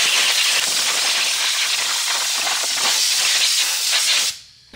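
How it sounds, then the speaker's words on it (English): Compressed-air gun from a shop air compressor blowing out the basket area and motor of a Better Packages BP555e gummed tape dispenser: one continuous loud, close hiss that cuts off sharply near the end. "I'll also blow out the basket area and blow off the motor as well. We use an air compressor and have an air gun right here."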